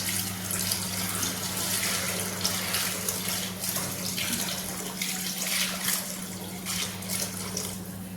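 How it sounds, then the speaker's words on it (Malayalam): Second-extract coconut milk being poured in small amounts into fenugreek fried in ghee, a steady liquid pour with a continuous watery hiss and a faint low hum, no talking. "ഇതിലേക്ക് നമുക്ക് രണ്ടാം പാല് ഒഴിച്ചു കൊടുക്കാം തേങ്ങാപ്പാലിൻ്റെ രണ്ടാം പാല്"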